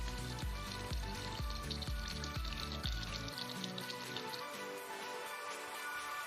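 Five liters of water pours into a bucket for a plant photosynthesis experiment, a steady close hissing, splashing rush with low thumping pulses for about three seconds, then a lighter continuous trickle.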